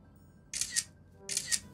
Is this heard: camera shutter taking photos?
yes